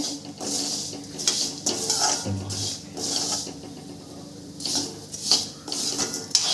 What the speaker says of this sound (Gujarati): એકદમ ફફડવા માંડી છે એટલે આપણી ગોટલી બહુ સરસ થઈ ગઈ છે